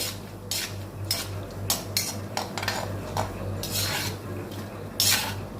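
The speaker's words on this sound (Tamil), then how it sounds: "நல்லா நெய் சூடான உடனே வறுத்து அதை தனியாக எடுத்து வச்சுக்கலாம்" Chopped almonds and cashews roasting in hot ghee in a pan, stirred with a metal spoon: repeated scraping and clinking against the pan over a soft sizzle, close and uneven in rhythm, with no talk.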